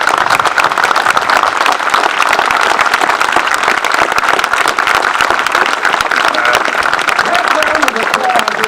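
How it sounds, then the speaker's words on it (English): Sustained audience applause at a Veterans Day service honoring Vietnam veterans, dense steady clapping filling the room for the whole stretch, loud and close with crowd murmur mixed in. "I'd now like everyone who served in Vietnam to please raise your hand and get a round of applause"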